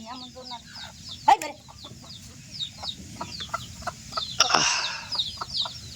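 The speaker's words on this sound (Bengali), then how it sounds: "এপালে আসা যাবি না মুরগি" A chicken clucks repeatedly close by in a rural home setting during the rainy season, short clucks spread across the clip with a brief louder burst and a faint voice.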